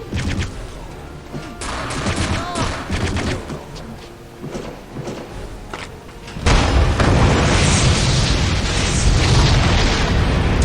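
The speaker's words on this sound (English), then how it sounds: "That was a rocket." Rocket explosion in the video game Return to Castle Wolfenstein: a loud, sudden booming blast erupts over busy game noise and keeps rumbling densely after the hit.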